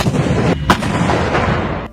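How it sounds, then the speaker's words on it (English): An M109 self-propelled howitzer fires its 39-caliber 155mm M284 cannon, a single sharp, loud blast about a third of the way in, set against a dense, rumbling battlefield din that carries on throughout. "The M109 Howitzer helps the U.S. Army accomplish this mission through mobile long-range indirect fire"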